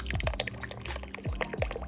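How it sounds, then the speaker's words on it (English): Tomato sauce being poured into a pot of red beans, a short run of wet glugging and dripping with a few soft splats, close and alone. "I'm gonna just pour it until it look right."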